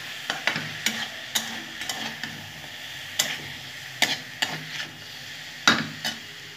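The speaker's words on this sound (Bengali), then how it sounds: "নেড়ে নেব, সুন্দর করে নেড়ে নেব, বেশিক্ষণ নাড়াচাড়া করবো না," A mustard-chilli paste for a drumstick-flower dish is stirred in a frying pan. Crisp spatula clicks and scrapes come in irregular bursts over a faint sizzle, close by and with no talking.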